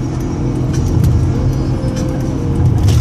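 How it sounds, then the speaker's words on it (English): Steady road rumble from a car being driven, a continuous low engine and tire drone with faint traffic hiss, no talking. "sorry, I'm driving, don't want to get hit"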